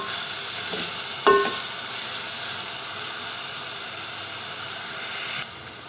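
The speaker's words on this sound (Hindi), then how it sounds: "शलजम की भुजिया की अच्छी तरह हमने इसकी भुनाई करनी है जी।" Grated turnip bhujia sautés in a pan with a steady, hissing sizzle, broken by one brief sharp clatter of stirring near the start; no voices are heard.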